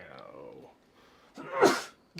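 A single sharp sneeze from a player at a tabletop wargame session, loud and close to the microphone, following quiet murmured talk, with a brief voice right after.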